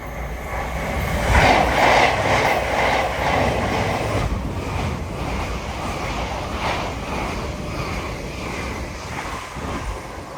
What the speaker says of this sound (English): passing through now is 801215 en route from Edinburgh Waverley to London